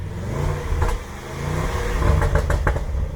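A car engine with an exhaust valve opened and a pops-and-bangs tune gives a quick rev, a close throaty rise and fall with crackling bursts near the end.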